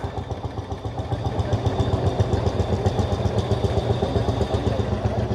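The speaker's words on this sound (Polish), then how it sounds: "jedzie Lands Bulldog" An old Lanz Bulldog tractor engine chugs along with a rapid, steady thumping pulse and some mechanical clatter, fairly close and continuous, at a vintage vehicle meet.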